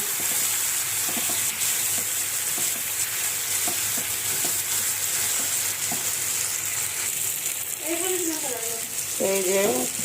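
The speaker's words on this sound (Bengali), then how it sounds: "আর কিছু সময় কষিয়ে নিব একটু ভালো করে না কষালে কিন্তু তরকারি মজা হয় না তাই একটু বেশি করে আমি কষাই নিচ্ছি" Curry being sautéed in a pan, steady close sizzling with repeated scraping stirs of a spatula, and a voice briefly speaking near the end.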